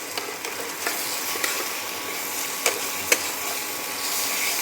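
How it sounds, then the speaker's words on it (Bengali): Ridge gourd paste stir-fried in a pan until it dries and darkens, giving a steady soft sizzle with a few sharp spatula scrapes and taps scattered through, close and alone without any talk. "এইভাবে নেড়ে ছেড়ে একটু ভাজা ভাজা করে নেবো"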